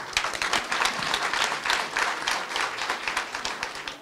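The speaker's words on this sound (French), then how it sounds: "Vous pouvez applaudir pour vous-même." Party militants applauding themselves at a political rally, a crowd's brisk, textured clapping that runs for about four seconds with a few sharper individual claps standing out.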